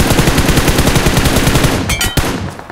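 Rapid automatic gunfire in the video game PUBG Mobile, loud and close, as a continuous burst of rattling shots that ends in a few sharper single cracks.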